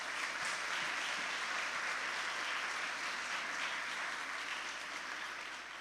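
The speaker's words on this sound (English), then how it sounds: "Can we give them a really big round of applause, please?" Steady applause from an audience at an awards ceremony honoring a board of directors, an even wash of clapping heard from some distance, fairly faint and tapering slightly at the end.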